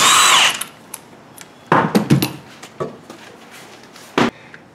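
An impact wrench whirs loudly to loosen a wheel on a Ford Focus, followed by several short bursts of the tool and clanks as nuts come off.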